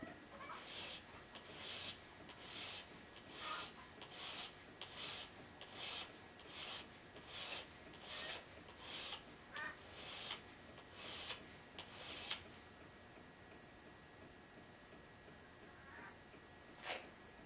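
A blade being hand sharpened on a stone to raise a burr, about a dozen rhythmic rasping strokes in steady succession, then quiet with one last faint stroke.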